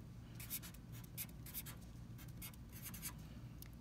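Numbers are written by hand while working a factor tree, giving a quiet series of short scratchy pen strokes, close and faint, in uneven bursts.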